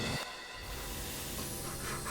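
A train in the Infinity Train trailer rolls along with a loud, steady rumble and hiss, a continuous roar with faint rail clatter and no talking.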